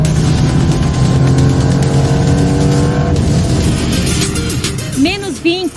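A Lamborghini Temerario hybrid supercar accelerates hard, its engine note sustained and loud for several seconds before easing off into a lighter, wavering tone near the end.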